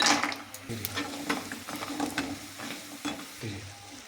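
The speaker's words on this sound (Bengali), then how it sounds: "বড়িগুলোকে লাল লাল করে ভেজে নেব।" Lentil dumplings (bori) frying in mustard oil in a kadai, a steady close sizzle broken by repeated scraping stirs and clinks of a spatula against the pan.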